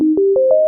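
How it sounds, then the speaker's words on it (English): Initial normal FMX sine-like synth tone on a Yamaha Montage or MODX, a loud, clean, pure note played in a short rising run of four or five quick steps lasting under a second, with no talk. "then you select an initial normal FMX sound"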